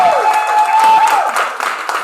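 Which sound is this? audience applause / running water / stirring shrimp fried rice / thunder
audience applause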